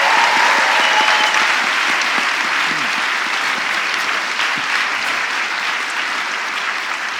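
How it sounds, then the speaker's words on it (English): A live audience at a BAHFest London comedy science event applauds for Dan, dense sustained clapping that fills the room and fades only slightly. "Round of applause for Dan."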